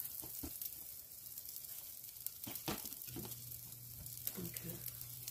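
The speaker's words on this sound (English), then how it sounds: "we're going to let these brown on each side" Buttered potato buns browning in a hot pan with oil, a soft steady sizzle under light clatter and a low background hum, close and quiet.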